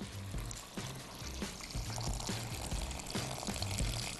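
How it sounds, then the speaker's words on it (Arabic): Water poured from a container into a cooking pot of meat and potatoes, a steady close splashing pour lasting several seconds with no voices over it. "حطيت البطاطس وهاخد ميه"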